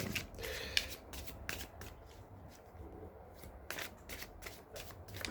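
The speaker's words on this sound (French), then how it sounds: "je vais retirer quelques cartes" Oracle cards being shuffled by hand during a spiritual reading, a steady run of soft papery riffles and slides with small taps, fairly quiet and close, no talking.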